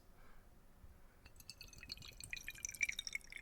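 Water drips from a prototype ASMR water trigger, close and quiet, as a scattered run of small bright plinks that grows denser and a little louder over a few seconds, with no one talking.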